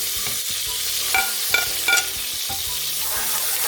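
Crushed garlic cloves and shallots sautéing for mutton nombu kanji, stirred in a pot: a close, even sizzle broken by several short clinking scrapes of the spoon, no voices over it.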